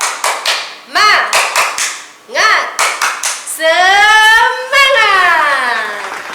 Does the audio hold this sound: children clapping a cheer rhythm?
yes